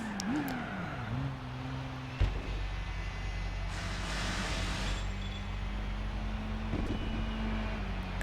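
An Alfa Romeo race car in Gran Turismo 4 roars past during a long endurance race, its steady engine drone rising then settling, with no talk over it.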